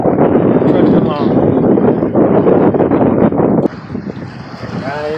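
A 27-foot Catalina sailboat under sail through the Molokai Channel toward Maui, with strong, rushing wind buffeting close to the microphone and water swishing past the hull, dropping slightly near the end.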